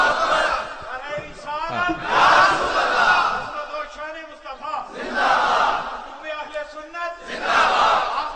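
A large crowd at a religious gathering shouts slogans in unison, with loud rhythmic bursts answering a leading voice and brief pauses between each chant.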